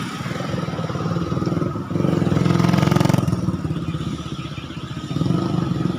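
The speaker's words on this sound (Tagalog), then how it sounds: "marami pang sasakyan na dumadaan" Street traffic near Barasoain Church in Malolos, Bulacan: a motorcycle engine revs and passes close by with clattering mechanical noise, rising and falling over a few seconds before another engine swells at the end.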